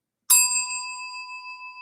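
A single bell ding strikes sharply and loudly, then rings on with a clear, sustained metallic tone that slowly fades with a gentle wavering shimmer, heard alone.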